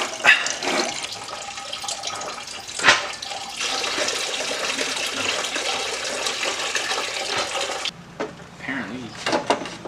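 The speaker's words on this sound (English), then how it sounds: "I'm going to take off the hose. That way it'll drain a little bit more." Coolant drains from a disconnected radiator hose on a 2003 Nissan Maxima, a steady close rush of splashing liquid that runs for several seconds, then cuts to a quieter stretch with scattered clinks and a voice.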